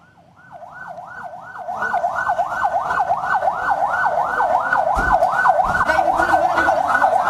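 Ambulance siren wailing in a steady, rapid rising-and-falling cycle, growing louder as it nears and staying prominent, with road traffic rumbling underneath, during an emergency transfer of students in Cipongkor, Bandung Barat.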